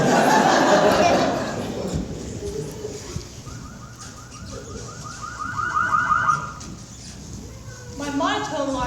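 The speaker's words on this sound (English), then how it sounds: "My monotone alarm gave the alert." An electronic alarm beeps in a rapid monotone pulse during a comic stage play, a short run of tones rising over loud audience laughter and chatter, then another brief burst near the end.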